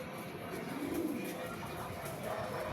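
Pigeons coo softly in the background, low and repetitive, amid a steady outdoor ambience at a racing pigeon toss in Santa Rosa, with no one speaking.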